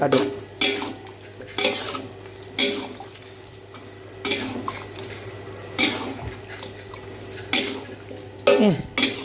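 Tofu is stirred in a frying pan with a utensil, giving repeated scraping strokes and clatter over a soft sizzle, close and steady.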